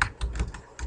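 A short, close burst of key presses rattles off a computer keyboard as text is typed in.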